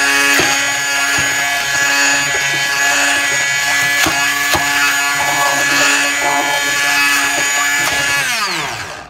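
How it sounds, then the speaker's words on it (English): A blender purees black beans in a loud, continuous whirring roar that runs almost unbroken for about nine seconds, with slight shifts in pitch and a few knocks, then winds down at the end. "Basically, I'm just going to turn it on, swirl it around, get everything nice and mashed up."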